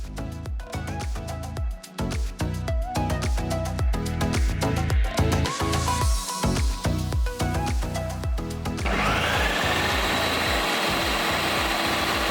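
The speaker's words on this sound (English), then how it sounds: "After about 2 minutes of processing the tahini and lemon juice" A food processor blends tahini, lemon juice, olive oil, cumin, garlic and salt. Its steady whirring roar comes in over the last few seconds, after a stretch of plucked, rhythmic music.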